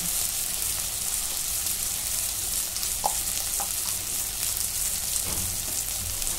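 Pav bhaji masala with red chili powder sautéing in hot oil, a continuous dense sizzle with a few faint stirring scrapes, close and steady with no talking.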